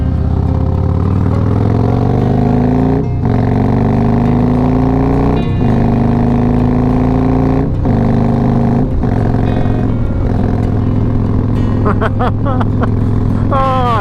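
A Harley-Davidson Road Glide motorcycle accelerates on a road with leftover gravel and salt. The loud engine pulls up through several gears, its pitch climbing and then dropping at each shift, close and dominant throughout.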